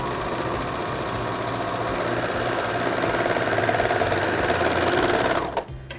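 A serger sewing machine stitches a rolled hem along the edge of a fabric napkin, a loud steady mechanical whir and rapid ticking that runs continuously before stopping abruptly near the end.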